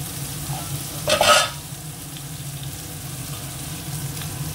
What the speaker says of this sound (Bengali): আগে লঙ্কা, কাঁচা লঙ্কা কুচোনো আর পেঁয়াজ কুচোনোটা দিয়ে দিলাম